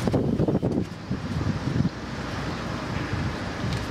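Gusty wind buffets the microphone outdoors beside a small flat homemade wind turbine fitted with an LED, a loud, rumbling roar that surges in the first two seconds and then settles into a steady blustery rush.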